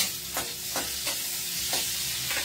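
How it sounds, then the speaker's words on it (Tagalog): Onions sauté in a pan with a soft continuous sizzle, broken by a few rhythmic scraping strokes of a spatula stirring them; quiet and without voices. "Igisa ang sibuyas."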